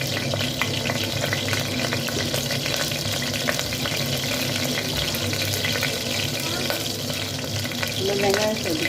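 Onions for a Kerala chickpea kurma sauté in hot oil with spices, giving a dense, steady sizzle and crackle, with stirring scrapes and a brief muffled voice near the end.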